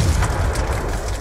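A grenade blast in Call of Duty: Black Ops 2 on PC gives a loud, rumbling boom that fills the whole moment and lingers as a heavy low roar, with no voices over it.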